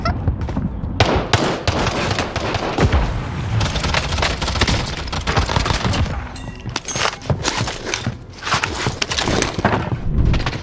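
Rapid, dense akimbo M19 pistol fire from Modern Warfare in Warzone on Rebirth Island, loud and near, with bursts of shots and impacts running almost continuously.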